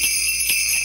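Small bells jingle steadily in a preschool rhythm song. The shimmer is bright and continuous, with a slight swell midway through, and no talking can be heard.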